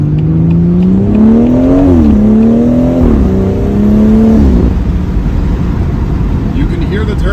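A BMW M240i with its B58 turbocharged engine and a VR Performance intake revs hard near full throttle, a loud rising and falling engine note with audible turbo whine, while someone talks over it.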